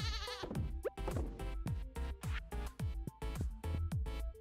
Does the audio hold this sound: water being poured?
no